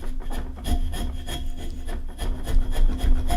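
A sharp chisel paring thin shavings from wood by hand, giving repeated rasping, scraping strokes in an uneven rhythm, close and fairly loud with no talking.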